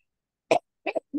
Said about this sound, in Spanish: Como ven, hoy es un día de tos.